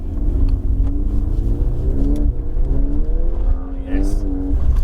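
A Volkswagen Golf R on bigger studded tyres, driven by a professional race driver around a frozen lake, its engine rising and falling through revs in loud, rumbling sweeps close up.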